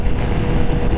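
A Honda CBR1000RR sportbike rides in third gear, producing a steady, loud low rumble of engine and wind noise with no speech.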